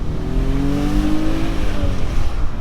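A car revving and accelerating, probably a tow truck, with a steady close engine drone whose pitch rises over a few seconds, with no talk.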